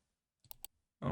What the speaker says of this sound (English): And now let's click on login to cpanel.